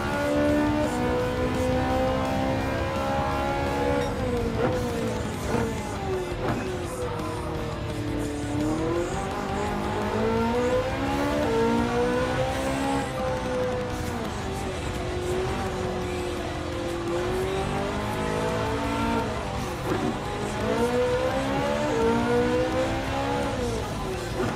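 A Ferrari in Gran Turismo 7 on PS5 revs hard through the race, its engine note sweeping up and down through gear changes, with tire squeal mixed in and a voice talking over it.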